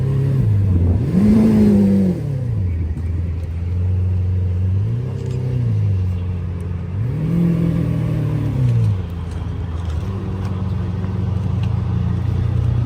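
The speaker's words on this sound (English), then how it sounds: "the yellow Ferrari F50 just driving by casually while we're filming this" A yellow Ferrari F50 drives by, its engine rising and falling through several loud, close revving sweeps over a steady low rumble with no talking.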